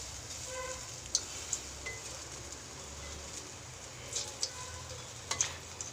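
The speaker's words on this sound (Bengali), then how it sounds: "আলুগুলোকে কেটে ধুয়ে আলু পোস্ত করব বলে এই যে ভাজতে দিয়েছি" Potatoes frying in a pan for aloo posto, a soft, steady sizzle with a low background hum and a few small pops and ticks scattered through, no voices.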